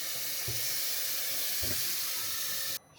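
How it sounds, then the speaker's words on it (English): Kitchen tap running into a pot, a steady loud rushing hiss of water with a couple of soft knocks, cutting off abruptly near the end. "fill up a pot with some water"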